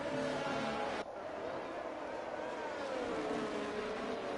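Race cars in F1 23 rolling off on the formation lap around Singapore, a steady layered engine drone with a slight rise in pitch, a brief dip early on, heard under a commentator's voice.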